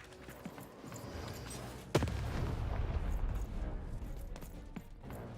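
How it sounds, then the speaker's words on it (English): A single cannon blast booms sharply in a video game, a sudden loud report followed by a rumbling low tail and scattered background clatter, with no talking in between. "Shoot the button to fire the cannon."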